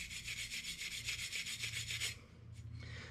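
Brass wire brush scrubbing an oily aluminum engine part during a cam seal job on an SRT-4, a steady close rasping scrub for about two seconds before it stops, followed by fainter brief brushing.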